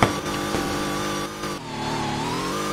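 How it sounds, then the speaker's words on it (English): Engine of a car in a Roblox racing video game, a loud, steady, harmonic synthetic drone that dips briefly and then climbs again in pitch, with no voices over it. "I like the car sounds, car backfires,"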